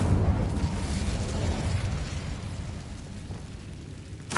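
An Incendio fire spell goes off in Hogwarts Legacy, a loud, sustained fiery whoosh that slowly fades, with a brief burst right at the end.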